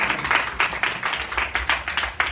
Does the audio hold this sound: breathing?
no